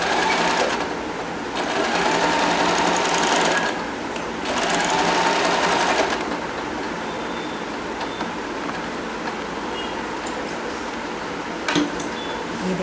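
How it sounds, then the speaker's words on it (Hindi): Sewing machine stitching a small dhoti for a deity statue, two loud, close bursts of fast, buzzing needle rattle separated by short pauses, then quieter handling noise and faint clicks. "इस तरह देखिए ये इक्वल वी बनाएंगे और इसके ऊपर सिलाई करेंगे"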